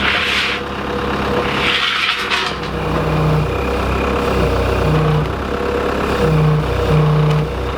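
Heavy vehicle engine revving and straining while pulling a racetrack control tower building being relocated, a steady loud low rumble with rising surges throughout.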